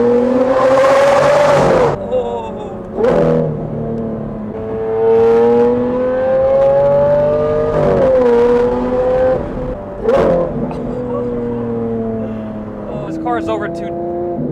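A Lamborghini Aventador engine revs hard through several gear pulls, each rising whine cut by a shift, loud and close from inside the cabin.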